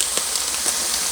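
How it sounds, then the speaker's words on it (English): Whole fresh oregano crushed between fingers for chicken tortilla soup, a soft continuous crackling rustle with a few brief crisp snaps, close and steady throughout. "So just use your fingers and break it down"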